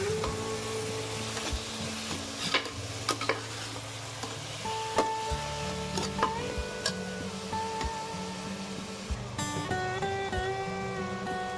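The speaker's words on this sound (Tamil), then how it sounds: "பொடியாக நறுக்கி வச்சுக்கிற வெங்காயத்தையும் போட்டு நல்லா வதக்கிக்கலாம்" Finely chopped onions sizzle in a pan for a spicy chicken gravy, with a low continuous frying hiss, occasional soft clicks and stirring taps, and faint background music underneath.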